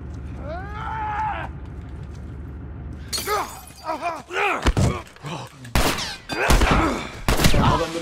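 Gunfire and shattering impacts in The Last of Us, a rapid run of sharp shots, thuds and breaking noises after a calmer stretch, with someone talking partway through.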